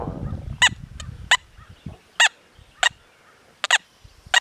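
Manticore metal detector with an M8 coil held a few inches above a nail, giving a series of short, sharp beeping tones at irregular intervals over a quiet low background rumble.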